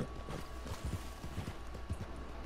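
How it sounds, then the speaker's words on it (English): Rhythmic clip-clop of horse hooves on hard ground, close and steady, a few irregular beats over faint background noise. "You're a soldier horse."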